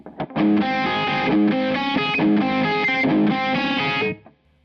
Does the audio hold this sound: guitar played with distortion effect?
yes